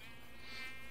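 A mosquito from the Twilight Forest area of modded Minecraft gives a thin, steady, high-pitched whine, faint and close, lasting about a second with no speech.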